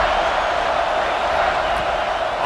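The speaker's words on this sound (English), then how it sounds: "how nice is it to have the home crowd going absolutely bananas?" A home crowd roars loudly at a Syracuse at Washington football game. The cheering is a steady, dense wash of noise that holds without a break.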